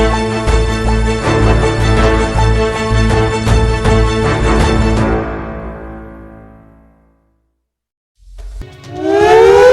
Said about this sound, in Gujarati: ચાર વાગ્યાના ટકોરે અને દેશભરના વિવિધ શહેરો આ પ્રકારના સાયરનથી ગુંજી ઉઠ્યા.